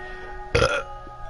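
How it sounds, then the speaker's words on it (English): A single loud, close burp erupts abruptly at a live PS4 broadcast, followed by a brief sharp noise at the end, with no speech. "Freaking burp comes up right while I'm trying to take a drink"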